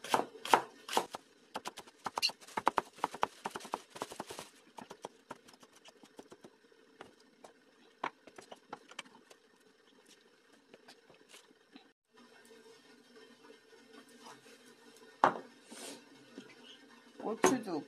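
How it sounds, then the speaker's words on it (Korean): A knife chops green onion on a cutting board, quick rapid taps at first, then scattered sharper cuts over a faint steady hum. "간장을 만들기 위해서 파를 썰겠어요."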